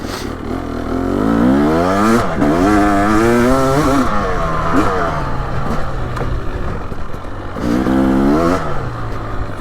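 A 2023 Husqvarna TX300 two-stroke dirt bike on a forest trail, loud and close, revving hard with rising and falling engine pitch as it shifts through gears in repeated bursts.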